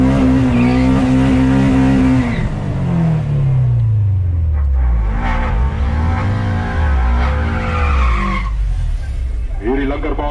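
A Honda Civic with a B20 VTEC engine drag races a Mark 1 Golf, with loud, close engine revs that rise and fall and a brief tire screech.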